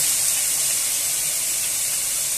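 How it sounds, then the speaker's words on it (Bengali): A paste of ground cashew, poppy seed, melon seed and five green chillies sizzles in hot oil, giving a steady, loud, hissing spray of frying noise throughout. "আমি একটা মিক্সির মধ্যে কাজু, পোস্ত, চারমগজ আর 5টা কাঁচা লঙ্কা পেস্ট করে নিয়েছিলাম, করে আমি তেলের মধ্যে দিয়ে দিয়েছি"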